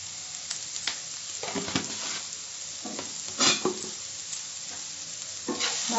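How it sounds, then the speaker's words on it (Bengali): Salt is stirred into mushrooms and capsicum frying in a pan, with a soft continuous sizzle and irregular scraping and clinking strokes of the spoon, near and without talk. "ভালো করে মিশিয়ে নেব নুনটা।"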